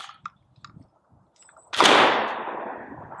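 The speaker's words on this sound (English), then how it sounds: "We'll run through the mag just for fun." A DDI Puma 12-gauge bullpup shotgun, modeled on the QBZ-95 rifle, fires buckshot: a few soft mechanical clicks, then one loud, close blast that rings out in a long, echoing decay.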